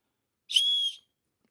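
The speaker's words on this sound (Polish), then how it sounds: "W tej kolejną z opcji jest gwizdek. Ja teraz spróbuję zademonstrować jego działanie." One short, shrill whistle blast from a survival whistle on a paracord bracelet, about half a second long, sounds close and loud, then silence.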